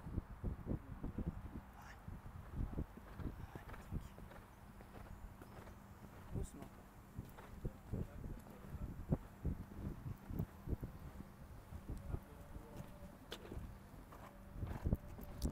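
A horse trots during a jumping lesson on a circle, its hooves beating a quiet, steady rhythm of thuds on the ground, with faint wind and occasional voices in the background.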